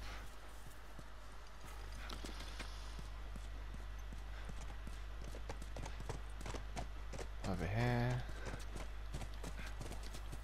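Horse hooves clip-clop in steady rhythm through The Last of Us video game, moderately loud against a constant low in-game hum, with a horse whinny rising briefly near the end and a voice talking over the hoofbeats.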